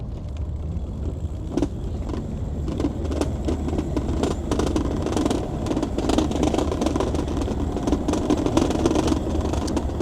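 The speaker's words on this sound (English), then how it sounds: "The rumble of the engines." A constant low engine rumble drones throughout, steady and close, with faint rattles and clicks on top and no talking.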